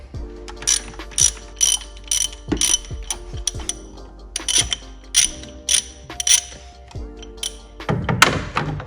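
A ratchet with a 13 mm socket loosens thermostat bolts on a widebody Dodge Challenger, a quick series of sharp clicking bursts with soft thunks between them, close and fairly clear.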